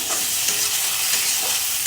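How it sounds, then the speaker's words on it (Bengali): An egg fries in a pan with a steady, loud, hissing sizzle that stays even throughout, with no voices. "আর একটা ডিম ছিল ওটাকে একটু দিয়ে দেবো ফ্রাই করার জন্যে"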